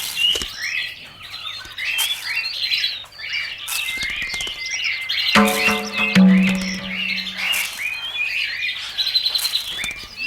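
Many small birds chirp and tweet busily throughout, with a brief low humming tone partway through and some light rustling underneath.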